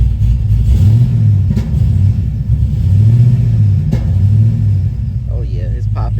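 A Cadillac CTS-V engine running with a misfire, giving a loud, steady low rumble with slow swells in revs and a few brief pops breaking through near the microphone.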